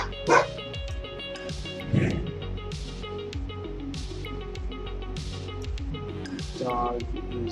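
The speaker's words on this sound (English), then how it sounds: "Dog is just barking at everything right now." A dog barks a few times, one sharp bark early and another soon after, then a softer yip later, over a busy bed of music or game sounds.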